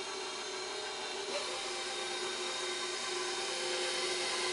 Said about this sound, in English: And then I'm just going to turn my mixer on and let it mix that up.